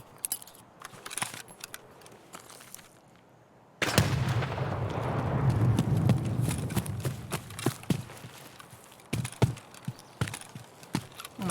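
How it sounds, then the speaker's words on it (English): A grenade bursts in Escape From Tarkov, a sudden heavy blast that swells into a long roaring rumble, with scattered gunshots and clicks before and after. "I'm gonna toss a nade in there"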